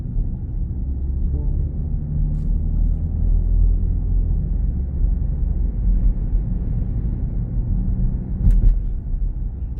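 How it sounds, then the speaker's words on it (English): A 2024 BMW X7 xDrive40i on the road, heard from inside as a low steady rumble of engine and tyre noise in windy conditions, with a faint click or two near the end. "Okay, we're going on a quick test drive."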